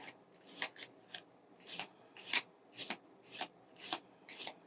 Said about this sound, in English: we're going to do one more shuffle for our pre-spread.